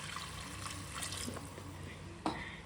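A glass of cooked mutton soup is poured into a pot for nati-style mutton biryani, giving a soft, steady liquid trickle that ends with a brief clink of the glass.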